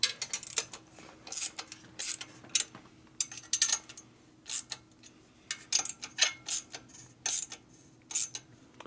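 Ratchet on a long extension tightening exhaust header nuts on a Harley, heard as bursts of quick metallic clicks in uneven groups with short pauses, close and fairly quiet against a low steady hum.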